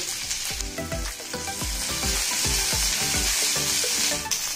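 Green chillies fry in a little oil in a pan while a Telugu-style nalleru stalk chutney is being made, giving a steady close sizzle broken by repeated rhythmic stirring scrapes, with no talking.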